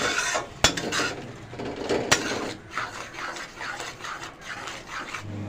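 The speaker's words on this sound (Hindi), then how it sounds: "मैं मसाला फ्राई कर रही हूँ दोस्तों।" Masala with tomato paste being stirred and fried in a pan for stuffed bitter gourd, with steady scraping and clattering of a utensil against the pan, a couple of sharp knocks and a faint sizzle underneath, close and moderately loud.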